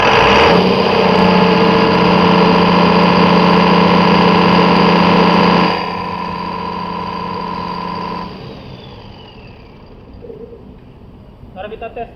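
A Clarke diesel engine driving a fire pump during a commissioning run test, a loud steady drone with a strong hum that drops in level partway through, then winds down to a quieter tail with faint clicks.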